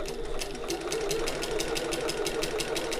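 Sewing machine stitching a seam on a shoulder bag, a quick rhythmic chatter of needle strokes running steadily and fairly quietly throughout.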